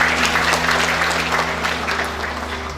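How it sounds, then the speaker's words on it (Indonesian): Audience applause in a church gathering, steady dense clapping held at an even level throughout, with a low steady hum underneath. "Tepuk tangan bagi kita."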